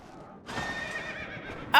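A horse in Final Fantasy XIV lets out a loud, drawn-out whinny lasting over a second, followed by a sharp brighter burst at the end.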